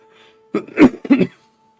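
Two rough coughs in close succession, fairly near and loud, over a faint steady hum, with quiet before and after.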